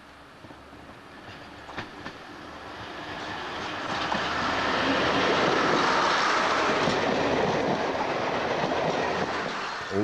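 A British Rail diesel multiple unit train runs along the line, wheels clattering steadily over the rails; the rumble builds and grows louder over the first few seconds, then holds as a broad, continuous roar with no voices.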